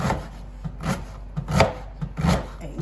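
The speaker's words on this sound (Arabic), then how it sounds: "رجعنا نقطع البصل" Onion being finely chopped on a board, a run of soft, irregular knife strokes with a dull thudding, close and moderately loud, with no talking.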